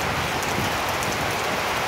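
Steady rain falls on a midday in Cần Thơ, Vietnam, in mid-March: an even, continuous hiss of drops with no talk over it.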